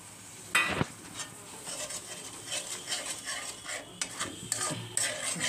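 Curd is tipped into a pan of frying rui fish and stirred, a spoon scraping and clinking against the pan over a soft sizzle, in irregular close strokes.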